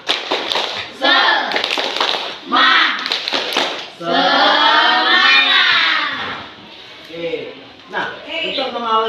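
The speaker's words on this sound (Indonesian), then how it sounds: "Biar lagi semangat, kita tepuk semangat dulu." A classroom performs a tepuk semangat, a rhythmic spirit-clapping routine, with sharp hand claps in patterned bursts, mixed with a teacher and children chanting loudly throughout.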